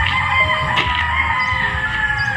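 Chickens cluck and a rooster crows nearby over a steady background hum, with a few sharp squawks breaking through.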